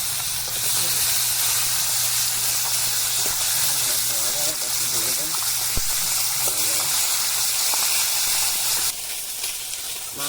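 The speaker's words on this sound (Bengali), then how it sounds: "আমি মাছটা ভেজে নিচ্ছি" Fish fries in oil in a kadai, a loud, hissing sizzle close by that holds steady for several seconds with bubbling crackle, then eases slightly near the end.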